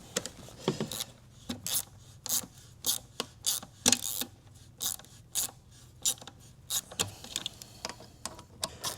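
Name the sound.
1/4-inch ratchet turning on car engine part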